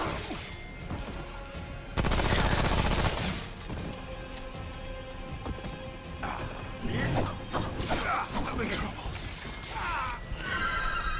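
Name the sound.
SMG gunfire in the video game Remnant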